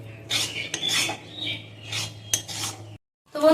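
A spoon stirring a paneer sandesh mixture with ghee in a kadai: scraping and clinking against the metal pan in uneven strokes, with a low steady hum underneath, a brief silence, then one more clatter.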